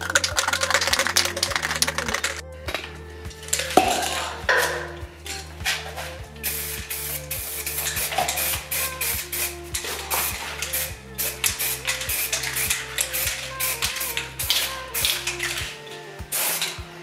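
A can of spray paint is shaken hard, its mixing ball rattling in a fast, steady rhythm of sharp clicks that keeps going with only brief pauses, close and fairly loud.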